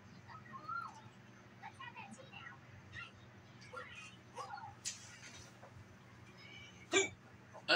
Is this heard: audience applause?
no